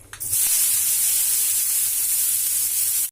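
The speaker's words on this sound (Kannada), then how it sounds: "ಇದೇನದ ಸಬ್ಬಸಿಗೆ ಹೆಚ್ಚಿದ್ದೆ ಇದಕ್ಕೆ ಹಾಕೋಣ ಈ ಒಗ್ಗರಣೆಗೆ" Chopped dill leaves dropped into hot tempering oil with turmeric and curry leaves, giving a loud, steady sizzle that flares after a brief soft start and holds for about three seconds.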